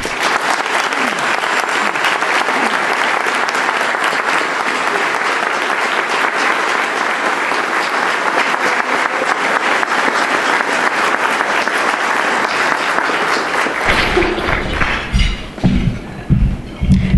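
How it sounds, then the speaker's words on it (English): A large luncheon audience applauds steadily for a welcomed speaker, dense sustained clapping filling the room before thinning and breaking into scattered final claps near the end. "I would ask that we all give a great round of applause in welcoming our friend, Judge Ramonda D."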